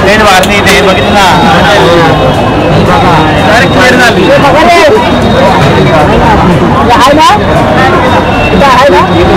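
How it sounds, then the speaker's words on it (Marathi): A huge late-night crowd at a Ganpati festival pandal in Mumbai makes a loud, dense wall of voices and babble, steady throughout, with someone talking over it close up. "असं वाटतं की मी स्टेडियमला आलो असा आवाज येतो इथे."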